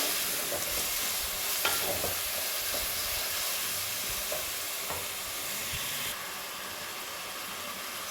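Freshly chopped spices fry in a pan for a ridge gourd curry with a dense, even hissing sizzle and a few faint stirring knocks, fairly quiet and continuous, with no talking.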